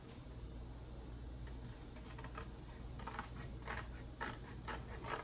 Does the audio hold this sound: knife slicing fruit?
no